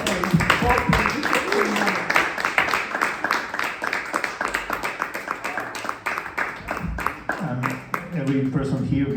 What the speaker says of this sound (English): could we have, please, a round of applause for Anthony Jeffries?